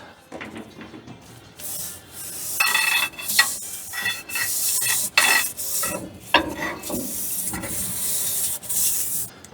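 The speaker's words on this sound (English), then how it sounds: "We'll run this brush down through there" Bristly scrubbing strokes of a brush on the underside of a 1965 Chevrolet C10 pickup, repeated in uneven bursts with short pauses, close up and fairly loud.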